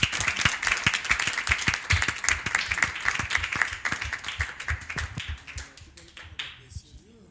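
Audience claps after a boxing champion speaks at a Congolese gathering, a dense burst of hand claps that thins out over several seconds as a voice talks over the tail.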